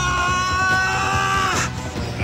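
A man screams and yells at full volume during wrestling training, a loud sustained strained cry of about two seconds that breaks off near the end.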